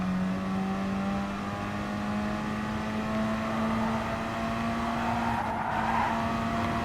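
Race cars in Gran Turismo Sport, Nations Cup competition, roaring steadily through the corkscrew turn with a sustained engine whine rising slightly in pitch, plus tire squeal and skidding, loud and continuous.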